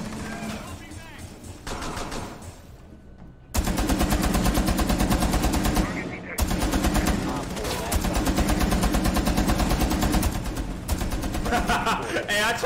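Gunfire shooting through a wall in Rainbow Six Siege, loud rapid automatic bursts with brief pauses between them, with voices talking through parts of it.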